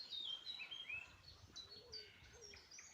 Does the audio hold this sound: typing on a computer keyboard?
no